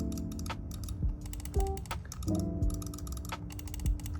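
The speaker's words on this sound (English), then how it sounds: "switches for this mouse use some Chinese brand like green shell, green dot switches, but they actually sound pretty good" Button clicks from an Ajazz AJ179Pro computer mouse with green-shell, green-dot switches, a series of crisp, close, irregularly spaced clicks heard alone.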